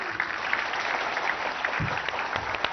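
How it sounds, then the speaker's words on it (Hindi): A crowd at the Pariksha Pe Charcha event claps steadily and fairly close, a dense even patter of applause with a few louder individual claps. "तालियां हमारे श्री नरेंद्र मोदी जी के लिए"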